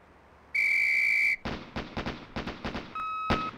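A sharp, steady whistle blast on a police firearms training range signals officers to start a shooting drill, followed by a loud, rapid series of close gunshots fired in quick pairs, ending with a shorter second whistle tone and a final shot.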